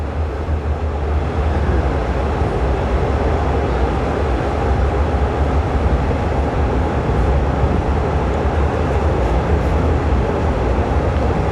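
A train runs from Don Mueang to Krung Thep Aphiwat Central station, heard from inside as a loud, steady rumble with constant rolling wheel noise throughout and no talk.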